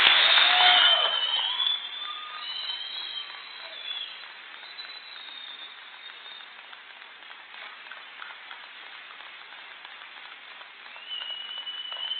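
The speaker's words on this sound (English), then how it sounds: "Audience, would you please give these young men another round of applause and appreciation for their dedication?" Audience applause at an Abernathy ISD high school graduation in 2018, a loud burst at first that settles into steady, rain-like clapping from a large crowd, continuing for about twelve seconds with a slight swell near the end.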